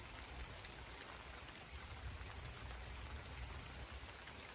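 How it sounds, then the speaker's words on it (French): Big raindrops patter steadily on surfaces as a night thunderstorm arrives, a dense, even hiss of rain close by with no talk. "Les grosses gouttes."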